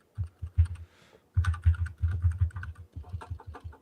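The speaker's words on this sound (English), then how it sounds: "you pound on your keyboard. I can hear you" Someone types hard on a computer keyboard, a close, fast run of loud clacking keystrokes with a brief pause near the start.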